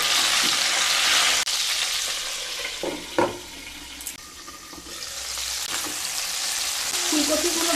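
Cauliflower florets frying in hot oil in a pan, a steady bright sizzle and crackle that runs throughout, with a few brief clinks and knocks partway through.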